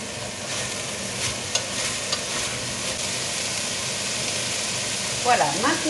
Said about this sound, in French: on laisse rôtir un petit peu les oignons également